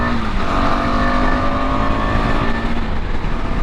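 A KTM Adventure 250 motorcycle accelerates through the gears toward fourth, its engine rising in pitch with loud, close, wind-buffeted roar and no talk.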